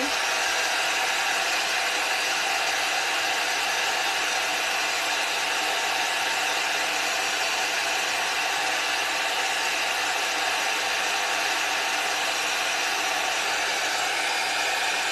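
A heat tool runs steadily for the whole stretch, drying white paint on a handmade card, its constant broad blowing whir unbroken and close with no talk over it.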